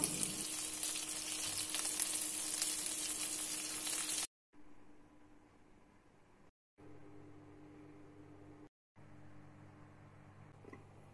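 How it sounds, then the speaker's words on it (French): Garden vegetables frying gently in a home kitchen pan, a steady soft sizzle that is bright and full at first, then drops to a quieter, duller crackle broken by short gaps of near silence. "je vais laisser frire tout doucement"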